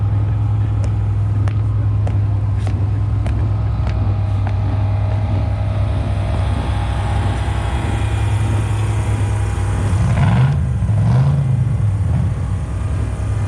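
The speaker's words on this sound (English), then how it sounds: "Everybody's warming their cars up, trying to get ready to go." Several cars idle and warm up together in the early morning at the Bonneville Salt Flats impound lot, a steady low engine drone, with a brief engine swell near the end.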